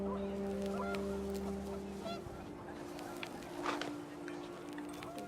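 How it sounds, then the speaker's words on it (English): Panicked geese honking in the video game What Remains of Edith Finch, a cluster of repeated nasal honks with wind and rustling underneath, fairly faint and set back in the scene. "The wind picked up and panicked geese appeared and quickly went."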